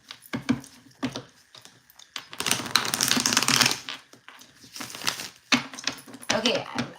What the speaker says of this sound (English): I'm going to keep shuffling because I want to give this a good shuffle.